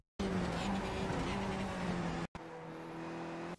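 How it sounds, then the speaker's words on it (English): A Skip Barber race car at Mount Panorama in the iRacing sim brakes hard and downshifts, its engine droning loud and steady, cutting out briefly for a shift, then resuming at a lower pitch. "Hit the brakes and shift down as soon as you can to make use of the engine brake."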